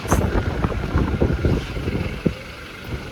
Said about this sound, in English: Here, just listen to this wind.